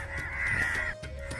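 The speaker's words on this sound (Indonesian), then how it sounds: "Burung gagak begitu banyak." Crows caw, a strained and steady call over a dense, noisy outdoor background of other birds at a desert burial site, heard at moderate distance with no talk.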